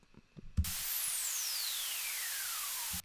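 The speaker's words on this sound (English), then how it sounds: "got a white noise-ish kind of effect" White noise effect synthesized in Serum, a steady broadband hiss with a falling whistle-like tone sweeping down through it, lasting about two and a half seconds before cutting off abruptly.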